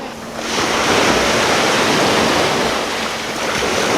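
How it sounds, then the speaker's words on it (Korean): Ocean waves break on a beach at Gangneung, a loud, broad wash of surf that swells after the first half-second and rolls on steadily with wind buffeting the microphone. "쟤 파도가 굉장히 무섭거든? 지금도 만만치 않은데?"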